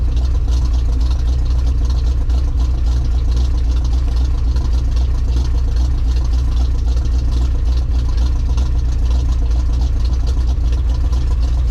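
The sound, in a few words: 1982 Chevy K10 pickup truck engine running in second gear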